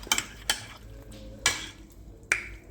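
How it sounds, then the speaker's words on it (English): Potato salad ingredients are stirred together with melted butter in a bowl, giving a few sharp scraping clinks of a utensil against the dish spaced irregularly over soft, wet mixing sounds, with no talking. "So I'm just gonna go ahead and mix everything together."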